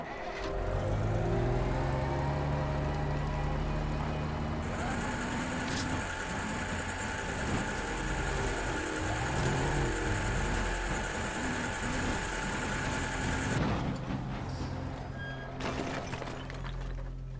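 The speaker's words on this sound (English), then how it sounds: "I'm going to use the dumper truck to create a gap through the hedge to be able to drive another car through there." A dumper truck driven in the game Teardown, its steady mid-pitched engine drone running loud and continuous throughout, with a high whine rising in the middle stretch and rumbling impacts near the end.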